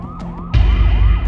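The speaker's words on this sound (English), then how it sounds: "Marianne froze, hearing police sirens outside." A wailing police siren sweeps up and down repeatedly, loud and close, with rumbling traffic noise joining partway through.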